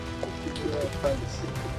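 Rain patters steadily on an outdoor film set during a shoot, a soft continuous wash of drops under a low rumble, with brief faint voices in the background.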